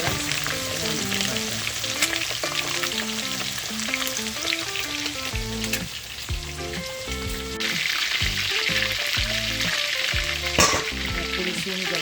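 Barbecue chicken wings deep fry in a pot, a loud, even, rain-like roar of bubbling oil that runs on without pause, close up and free of speech, with light clinks in between.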